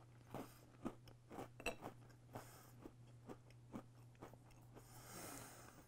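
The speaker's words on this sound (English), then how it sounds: "I gotta take another bite" A Halloween Oreo cookie is bitten and chewed up close, with a string of crisp crunches at a steady chewing rhythm.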